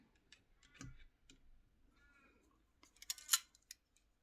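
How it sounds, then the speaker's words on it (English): Small scissors pressed down among dried herbs in a quiet room, giving a few faint clicks and rustles, one soft thud, then a brief, brighter clatter of sharp taps near the end. "I'm just going to take one part of my little scissors and just push that down a little bit."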